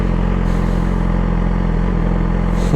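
A 2009 Yamaha YZF R6 motorcycle engine pulls steadily in fourth gear, a loud, continuous close-up drone with no break across the short stretch and no voices.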